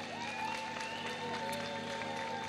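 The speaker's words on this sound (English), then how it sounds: "Clap it up for Yvette." Clapping for Yvette at an Antioch church gathering, a dense wash of applause from the room layered with a sustained tone and background hum, continuous and fairly even.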